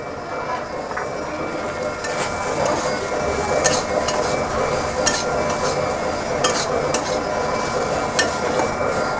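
Fried spices being stirred into a coconut-peanut filling in a pan for singara, a steady scraping stir with soft sizzling and occasional sharp clinks of utensil on metal, close and continuous.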